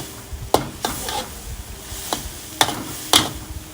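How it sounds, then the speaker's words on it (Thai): Sesbania flowers and egg stir-fried in a pan over high heat: a steady sizzle with five or six sharp scrapes of a spatula against the pan, close and loud. "นี่ดูดอกสนงกับไข่ยายน้อง ยายน้องเปิดไฟแรง"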